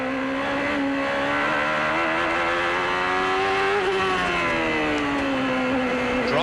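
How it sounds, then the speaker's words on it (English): A 1993 CART IndyCar driven by Nigel Mansell on a wet Portland road course, its engine holding a steady, smooth high drone with gentle pitch rises and dips as the throttle is eased, continuous and close. "Just listen to how easy Mansell treats this car."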